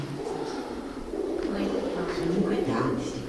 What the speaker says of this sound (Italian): Questi sono i piccioni.